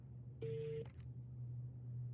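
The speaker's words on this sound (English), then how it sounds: "can hear the phone ringing through the earpiece" Phone ringing heard through an earpiece, a single short electronic ring tone followed by a couple of faint clicks over a low steady hum.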